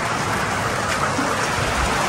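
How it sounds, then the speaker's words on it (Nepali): Steady rain falls without a break, a dense even hiss with no voices. "पानी अब कति दिन छ झरी पर्ने हो थाहा छैन"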